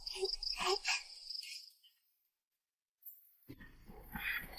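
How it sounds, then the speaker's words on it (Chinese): Crickets chirp in a thin, steady, high trill, fading out into a full second of silence midway before the chirping returns, fairly faint throughout. "别蹲在那儿斗蛐蛐了"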